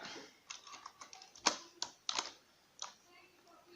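Irregular clicks of a computer keyboard, with a handful of separate keystrokes and brief bursts spaced through the stretch, close and fairly quiet in a quiet room.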